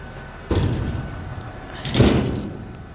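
Two heavy vehicle door closures sound up close, about a second and a half apart, each a dull thud over a low engine idle, the second louder than the first.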